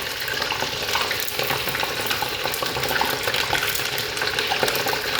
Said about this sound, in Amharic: ጀምረው ድንችን በመጥበስ ነው።